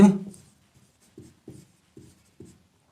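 Pen or pencil writing on paper during a Hindi-language maths lesson on polygon exterior angles, heard as a series of short scratchy strokes in quick bursts close by, following a brief spoken word at the start.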